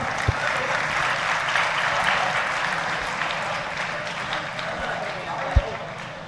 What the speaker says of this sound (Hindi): जरा आप सब लोग भी लोकार्पण के साथ ही जोरदार तालियां बजाइएगा